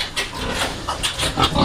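Large male pig grunting repeatedly at close range, rough nasal snorts in irregular bursts over a noisy farmyard background.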